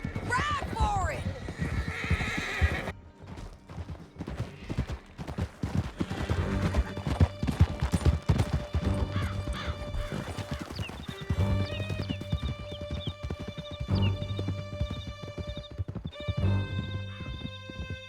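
Horses gallop with rapid clip-clop hoofbeats and a whinny in Red Dead Redemption 2, close and steady over a music bed, with voices shouting briefly at the start.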